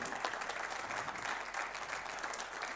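Audience applause for snooker player Gary at the World Seniors Championship, a steady, even round of clapping from a moderate-sized crowd throughout.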